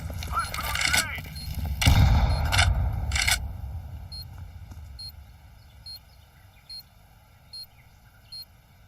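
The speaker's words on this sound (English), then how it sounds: "Let's throw a grenade" A loud grenade blast with a rumbling low boom erupts in the video game Counter-Strike 2 amid scraping gunfire, then fades to quiet ambience broken by evenly spaced high beeps.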